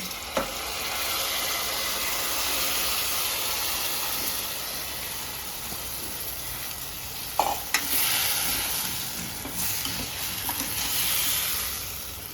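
Washed masoor dal and rice are stirred into hot oil with coriander for khichdi, raising a steady close sizzle and hiss with a few sharp clinks of the spoon against the pot.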